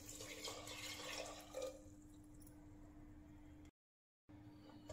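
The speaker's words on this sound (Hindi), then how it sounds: "इसमें डालिए पानी।" Water splashes and trickles into a cooking pan of cauliflower, peas, salt and turmeric for about two seconds, then a quiet hum with a brief silence.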